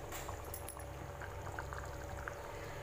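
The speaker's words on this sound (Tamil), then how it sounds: "ஹை ஃப்ளேமில் நல்லா கொதிக்கிற வரைக்கும் ஹை ஃப்ளேமில் இருக்கட்டும்." Drumstick masala gravy boiling on high flame in a pot, a steady, soft bubbling burble throughout with small pops, fairly quiet and with no talking.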